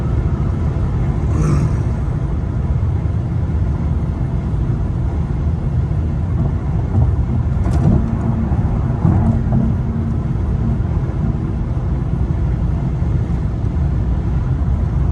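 A 2009 Mercedes-Benz CL 550 4Matic AMG coupe cruises on city streets and freeway. Steady low engine and road rumble fills the cabin, loud and unbroken, with a few faint brief clicks.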